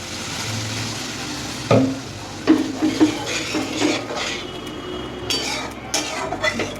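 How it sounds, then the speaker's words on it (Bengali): Water poured into well-fried masala in a pan, then stirred, with clinks of a spoon against the pan and a soft sizzle, close and moderately loud, no talk. "মশলাটা আমার ভালোভাবে কষে গেছে বন্ধুরা। এবার আমি জল দিয়ে দিচ্ছি পরিমাণ মতো।"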